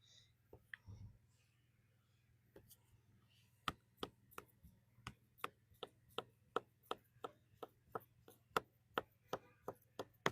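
A knife slices an ingredient finely on a board for homemade cinnamon sugar donuts at a camp breakfast, giving a steady run of crisp, evenly spaced chops, close and fairly quiet, with a few scattered knocks before the rhythm settles.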